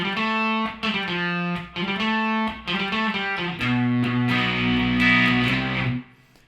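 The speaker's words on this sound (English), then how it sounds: "that's the main sort of lead line for the tune" A distorted electric guitar plays a song's main lead line, a loud, sustained riff of held notes and short phrases that ends abruptly.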